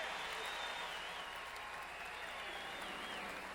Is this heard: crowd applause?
yes